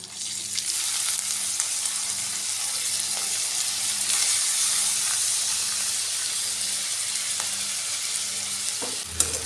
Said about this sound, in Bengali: আমি চালটা ভালো করে একটু ভেজে নিলাম